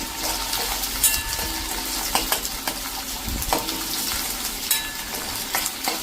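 Chopped onion, ginger, chilli and garlic fry in a pan with a steady, loud sizzle, broken by occasional stirring scrapes and clinks.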